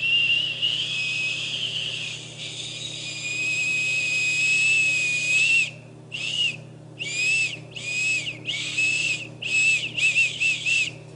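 A natural whistle made by blowing across an acorn cap held between the fingers: one long shrill steady tone, then a run of short, sharp pulsed whistles close to the microphone.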